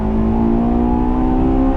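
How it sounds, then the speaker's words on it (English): A 2001 Honda S2000 AP1 engine revving hard in a steady, loud climb, with strong harmonic induction tones and no talk, heard continuously from inside the car on a winter drive. "You get to make cool noises and get transient VTEC response like that, which is so much fun."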